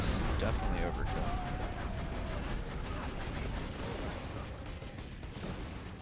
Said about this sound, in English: Okay, that grenade is definitely overkill.